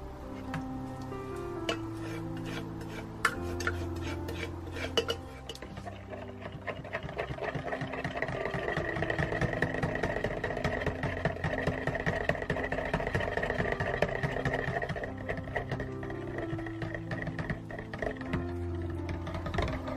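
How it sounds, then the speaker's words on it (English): A stick blender whirs steadily as it mixes lye solution and oils for lavender cold process soap, a continuous motorized drone with rapid ticking that runs throughout without talk. "I'll show you how long I stir this for, because the more integrated I can get the lye and the oils, the less blending I have to do"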